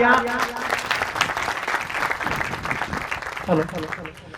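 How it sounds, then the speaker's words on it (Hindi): Audience applause at a public gathering with a local legislator, a broad wash of many people clapping at a distance, steady and sustained, with a voice speaking over part of it. "जोरदार तालियां"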